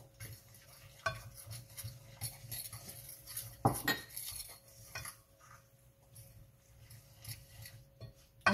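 Seed cracker dough of flour, oat bran, seeds and water being stirred in a bowl, irregular close scrapes and clinks of a utensil against the dish, with a few louder knocks, no talking.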